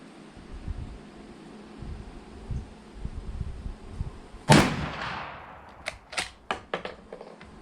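Savage 212 shotgun fired outdoors, one loud sharp blast followed by several shorter cracks and echoing reports, with quiet handling noise before the shots.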